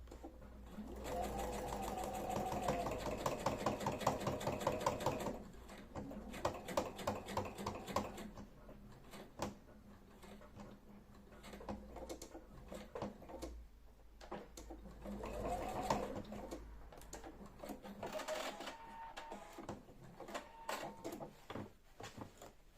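A sewing machine topstitches a trouser fly a few millimetres from the edge, running in fast steady bursts with short pauses and restarts, close and clear, with no talk over it.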